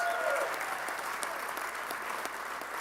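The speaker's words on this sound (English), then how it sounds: "Yes, another round of applause." Steady applause rolls through the room at a university press conference announcing a new men's basketball coach, a dense, continuous wash of clapping heard at a moderate distance.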